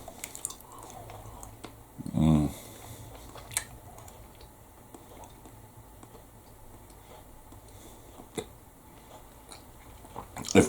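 Close mouth sounds of someone chewing a chewy Cadbury snack-sized chocolate treat, mostly soft wet clicks and squishes with one louder, fuller bite near the start.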